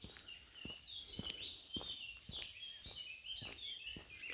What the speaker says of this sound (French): Et là, on entend les oiseaux.